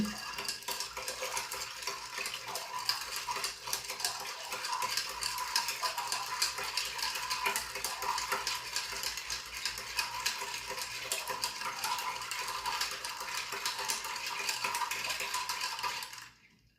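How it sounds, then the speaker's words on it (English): Ice rattles and clinks steadily in a mixing glass as a martini is stirred vigorously until chilled, a dense continuous jingle held for about sixteen seconds with no talk. "we stir vigorously until chilled"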